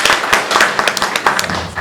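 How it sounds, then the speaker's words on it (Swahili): An audience claps for a contractor at a campus construction event, a short dense burst of hand claps, close and loud, with no talking over it. "Hebu asimame tupige makofi kidogo"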